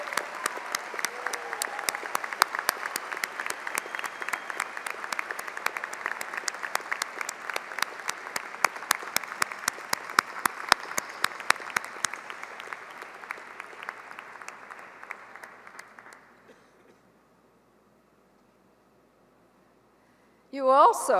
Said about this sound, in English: give your families and friends that thunderous applause they deserve